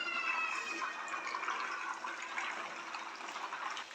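A whole chicken for chargha, lowered with tongs into well-heated cooking oil, fries with a steady, dense sizzle that stays loud and even throughout, with no talking.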